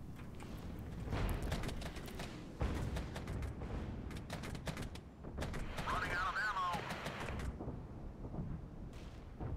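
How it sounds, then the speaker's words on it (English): Missiles and artillery pound troops in the Regiments war game: a dense run of sharp impacts and crackling bursts across the whole stretch, loud and continuous, with a warbling whine in the middle as explosions keep landing. "They're getting hit with missiles."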